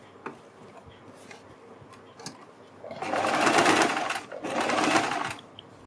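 Sewing machine stitching along the neckline of a kurti, running in two loud sustained bursts of rapid stitching after a quieter stretch of faint handling sounds.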